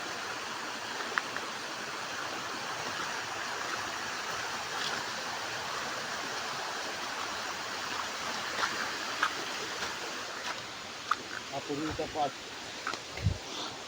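A river runs beside a stone embankment near an old stone structure, giving a steady, broadband rush of flowing water throughout, with a few faint knocks and brief low thumps near the end.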